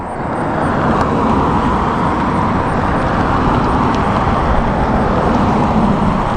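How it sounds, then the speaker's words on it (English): Car traffic rushes steadily past on a road near the open fields at Gettysburg, a constant loud broadband roar with wind that holds for several seconds and has no talk over it. "We're going to cross after this car here"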